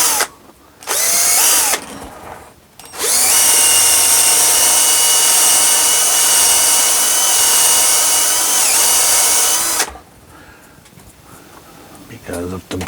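A power drill bores into alder wood for thread grafting, whining in two short bursts and then one long steady run of about seven seconds, loud and close, with talk heard during the pauses.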